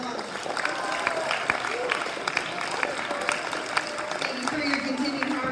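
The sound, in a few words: audience applause at an awards ceremony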